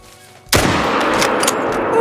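A single loud, close rifle shot in the hunting game Call of the Wild while hunting red deer at Te Awaroa, a sharp crack followed by a long rolling echo that fades slowly.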